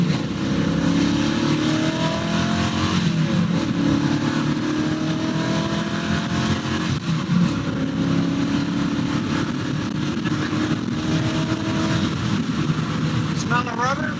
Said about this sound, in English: Oh yeah, you're you're burning rubber.